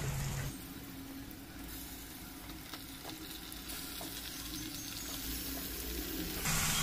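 Mutton goes into a hot pan of frying onions and garam masala, giving a steady close sizzle and crackle that swells as the meat hits the oil and keeps frying evenly.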